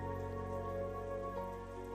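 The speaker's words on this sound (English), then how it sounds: "It's not raining that hard." Rain falls in the video game Trails of Cold Steel 3, a steady, even patter on surfaces under a sustained musical tone, continuous and moderately quiet.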